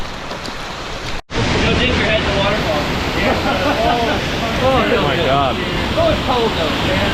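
A waterfall along a stream in Alaska's Prince William Sound pours with a loud, continuous roaring rush close by, briefly cut by a short gap, while people talk and exclaim over the steady noise.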